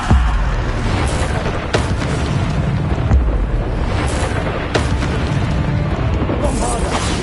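Bombarda spell explosions in the video game Hogwarts Legacy during combat, a dense roaring blast bed with repeated booming bursts about every second and a half, loud and continuous, with faint spell effects mixed in.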